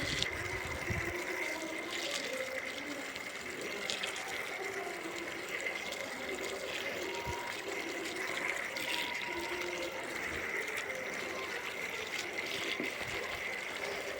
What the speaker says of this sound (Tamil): எல்லாம் காயை ஃபுல்லாக அப்படியே தண்ணியில் வாஷ் பண்ணி கொண்டு போய் உள்ளே வச்சிடலாம்